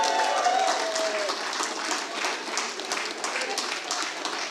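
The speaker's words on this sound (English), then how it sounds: "can we have a huge round of applause for Musa Sharif and the Blue Band team" An audience at a rally championship prize ceremony claps in sustained, dense applause, strongest at the start and then holding steady, while a voice talks over it.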